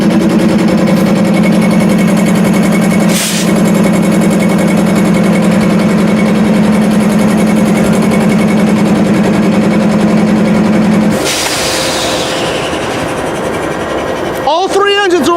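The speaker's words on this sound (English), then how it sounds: "All three engines are online." Three diesel locomotive engines idle, including a Canadian locomotive on CSX in Tidewater, Virginia, a steady low strong droning hum throughout, a brief clank partway, then the tone shifts and a short squeal near the end.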